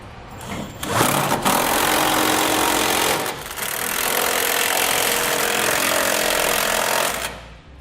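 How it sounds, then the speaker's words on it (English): An impact wrench with a 3/4 inch socket snugs the vertical bolts of a Curt custom fifth wheel rail kit on a Ram truck bed, making a short burst and then a longer loud rattling hammer run before stopping. "using a 3/4 inch socket, we're going to snug up all the vertical bolts first"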